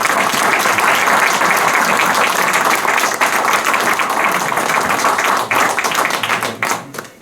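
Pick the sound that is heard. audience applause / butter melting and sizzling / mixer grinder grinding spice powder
audience applause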